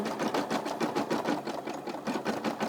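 A Brother SE600 embroidery machine stitches out an eyeball design with a rapid, steady mechanical chatter. The needle beats pulse evenly, loud and close, with no voices over them.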